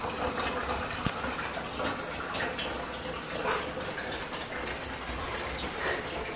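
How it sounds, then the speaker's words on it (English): Water filling dogs' water bowls after play, a steady continuous trickling and gushing pour heard close up, with small clinks and no talking. "I'm going to grab them some water in their bowl because they're all worn out."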